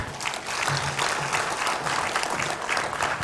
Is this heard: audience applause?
yes